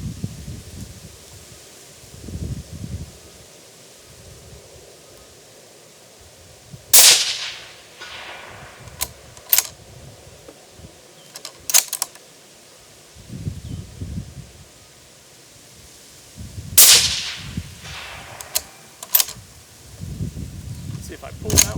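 Federal 6.5 Creedmoor rifle shots fired at targets 300 yards downrange, a few sharp, loud cracks spaced seconds apart over wind noise and rustling, with someone talking between them.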